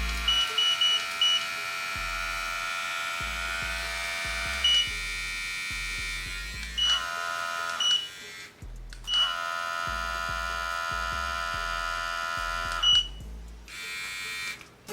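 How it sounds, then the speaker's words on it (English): A Brio Beardscape v2 beard trimmer runs on its lowest setting, giving a steady, fairly quiet motorised buzz that drops out briefly twice and starts again, with low handling bumps underneath. "It is a quiet trimmer."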